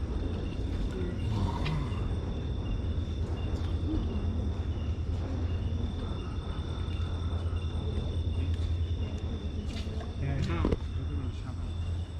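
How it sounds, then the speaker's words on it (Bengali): In Lawachara forest at night, chicken-calling frogs croak amid a dense, steady chorus of crickets and insects, with a few louder calls rising over the constant background and faint voices nearby. "এই যে মুরগি ডাকা ব্যাঙ এখানে ডাকছে।"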